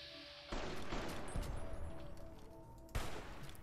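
Gunfire in Fallout: New Vegas, a burst of shots starting sharply after a quiet lead-in, with a second loud crack near the end over dense continuing battle noise.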